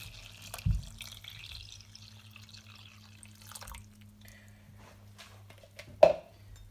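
Cold water trickles and drips into a pot of salted chicken brine, faint and close with a low background hum and one sharper splash near the end.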